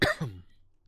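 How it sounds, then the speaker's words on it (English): One short cough right into a close microphone during a Diablo 2 gaming session, loud at onset then quickly fading into quiet room tone. "Sorry for coughing into the microphone there."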